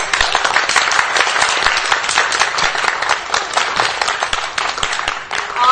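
Dense, continuous applause from a theater audience at a stage play, loud and steady throughout with no talking over it.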